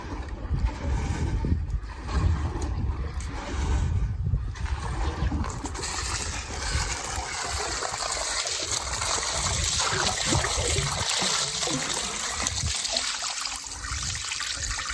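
Clean gasoline sloshes and trickles as parts from a 1940 Mercedes fuel and brake system are rinsed, a steady, close liquid swishing that turns to a continuous rushing pour partway through.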